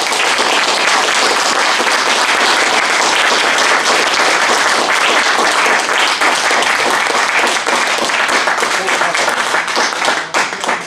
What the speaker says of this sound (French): Moi, je remarque que les applaudissements sont vraiment nourris.